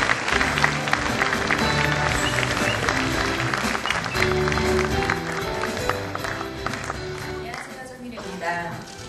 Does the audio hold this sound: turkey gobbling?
no